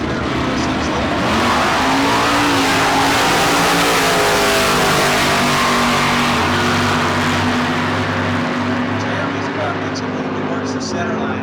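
Street-legal drag racing cars at the Street Car Super Nationals 15 roar off the line and accelerate down the strip, a loud, sustained engine howl that rises in pitch and fills the air, with an announcer talking over it throughout.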